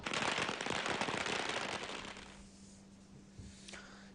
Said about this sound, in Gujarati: એની ખુશીમાં આજે વ્યક્ત અહીંયા કર્યું છે ફટાકડા ફોડીને